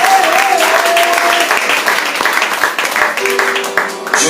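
A church congregation breaks into loud, sustained applause and cheering at an evening worship service, a dense wash of clapping close and full, with some voices mixed in.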